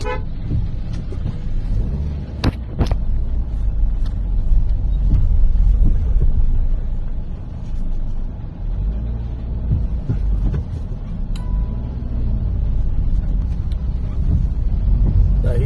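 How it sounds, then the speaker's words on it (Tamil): Traffic rolls along a waterlogged road in Chennai during continuous rain, with a low rumbling engine and tyre noise, several short horn toots scattered through, and a few sharp clicks and knocks nearby. "இருந்து இப்போ திருவான்மீரை நோக்கி வண்டி போயிட்டு இருக்கு"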